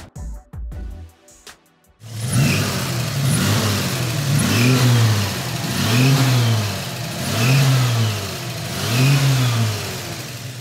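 A 1978 Chevrolet Chevy Opus Serie 2 coupé with the 250 cubic-inch, seven-main-bearing inline six of 4,100 cc is revved repeatedly, about five loud rising-and-falling throttle blips over a steady idle, after a short burst of other noise.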